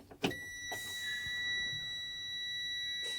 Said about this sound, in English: you must have the key on in order for the buzzer to let you know